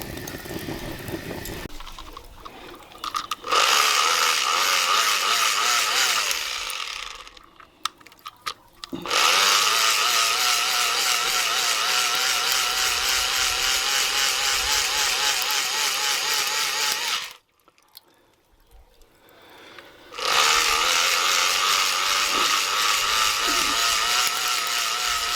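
A cheap battery-powered BBQ blower bought from Temu for under £2 runs with a loud, steady whirring roar in long bursts, cutting out briefly twice before starting up again.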